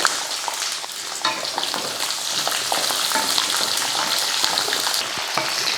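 Curry leaves, onion and garlic fry in a pan with a steady, dense sizzle and crackle, stirred now and then, close and fairly loud with no voices.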